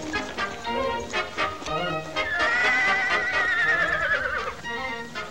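A horse in a 1947 Western whinnies loudly in a long, wavering neigh that rises and then falls, with busy scene noise and movement around it and no speech.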